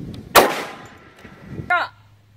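A single sharp gunshot rings out during a firearms training drill, followed about a second later by a brief metallic clang or ring, with quiet pauses in between.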